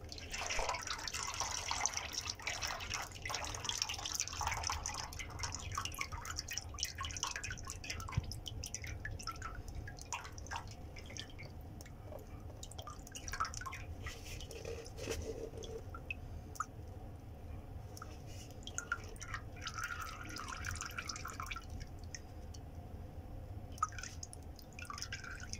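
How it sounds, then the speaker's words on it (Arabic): Transmission oil being poured into a car during a full transmission oil change, a steady trickling, dripping flow of liquid heard up close for the whole stretch with no talking. "نحط الزيت."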